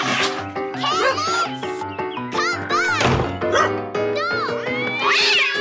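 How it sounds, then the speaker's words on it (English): A cartoon dog chases cats, with loud barking, yowling and meowing clashing over lively music, interspersed with thumps and commotion throughout. "Sounds like Taffy Bogle's chasing the cats again."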